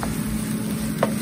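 Stuffing mixture with diced jalapenos and maple sausage being stirred in a bowl, a soft steady scraping and sizzle-like rustle running throughout, close and fairly quiet.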